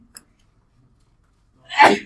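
A single sharp sneeze bursts out near the end after a faint earlier click, loud and close in an otherwise quiet classroom.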